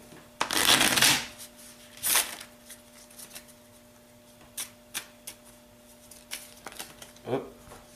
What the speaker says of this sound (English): Go ahead and shuffle your deck